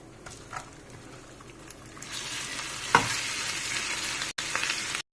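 Potatoes fry in a pan with spice masala, a soft sizzle that grows louder after a couple of seconds, with a sharp scrape of stirring and a brief cut near the end.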